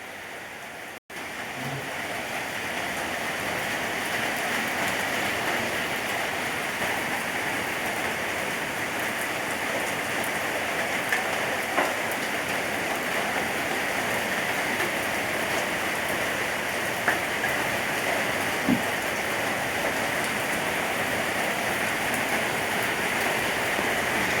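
Heavy rain falling just outside a house: a dense, continuous hiss and patter of drops on surfaces, loud and close, steady for the whole stretch with occasional louder single drips.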